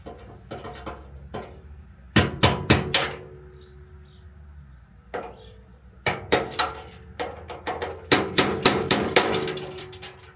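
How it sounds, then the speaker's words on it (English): Sharp metallic hammer strikes on a centering punch set against rivets on RV steps come in quick bursts of several blows, close and loud, with pauses between groups. "just a little centering punch and a hammer"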